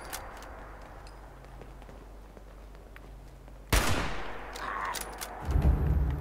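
Gunfire in Fallout 76: a sharp loud shot bursts out after a quieter stretch of faint ambience, followed shortly by a second heavy blast, the pair sounding close and punchy.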